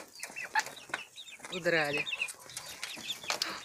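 Young chicks and a hen cluck and peep up close in a coop, with short soft clucks and one longer rising call, while someone speaks over them.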